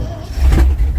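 An old Ford F-600 truck cold-starting in bitter cold, a short loud burst of low engine roar as it fires and revs up close.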